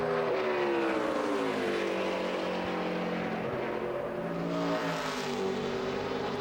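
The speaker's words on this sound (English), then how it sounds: "Here's Joe Nemechek giving that time a run." A NASCAR Nationwide Series race car on a qualifying lap for the Virginia 529 College Savings 250 gives a loud, continuous engine roar that swells and falls in pitch through the lap, with no talk over it.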